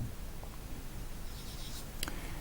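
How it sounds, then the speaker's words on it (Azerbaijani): A marker or chalk scratches out an example on a board, with faint short strokes and taps over a quiet room hiss, and no talking. "bütöv misal yazıram bura."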